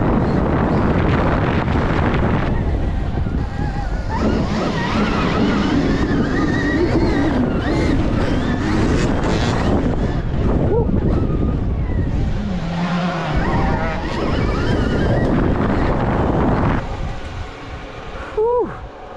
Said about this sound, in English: Oh, you can hear the tires.